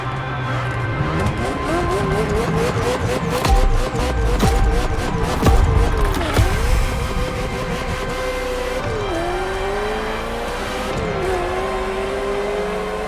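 A Ferrari F40 supercar engine in The Crew Motorfest racing game revs and accelerates, its steady, loud drone rising and dipping through gear shifts, close and unbroken.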